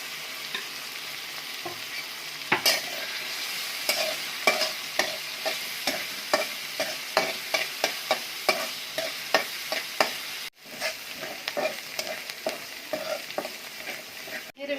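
Green chillies and onion frying in a pan with garlic, a steady sizzle broken by regular scraping stirs of a spatula, close and fairly loud, with no one talking.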